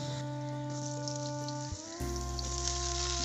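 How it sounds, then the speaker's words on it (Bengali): Cut ridge gourd drops into hot oil with browned tempering spices, the sizzle rising noticeably partway through over a steady low electric hum, faint and close with no talking. "এখন আমি কেটে রাখা ঝিঙেগুলোকে ছেড়ে দিচ্ছি।"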